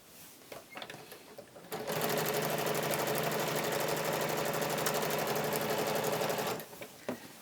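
A sewing machine stitches binding onto a quilt in one fast, continuous run of rapid mechanical clatter lasting about five seconds, close and steady, with brief handling noises before and after.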